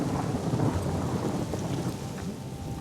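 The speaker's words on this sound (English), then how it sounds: "Big storm coming in." A thunderstorm rumbles over a North Dakota state park campground, low thunder rolling under a steady hiss of rain, with a sharp crack near the end.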